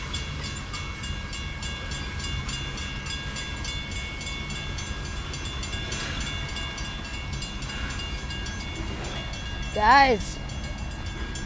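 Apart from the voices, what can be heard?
BNSF loaded coal train passing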